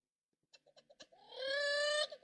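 A person imitates a bird call, starting with a series of short clicking chirps and then breaking into a loud, sustained, whistling, rooster-like cry that stops abruptly and is followed by a couple of softer chirps.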